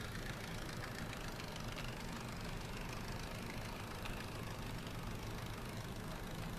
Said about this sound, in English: it's pretty quiet, but that's just the tank drive you're hearing.